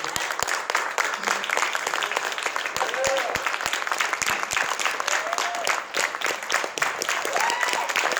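An audience at an entrepreneurial mastermind event breaks into sustained, dense applause, loud and close throughout, with a few voices calling out over the clapping.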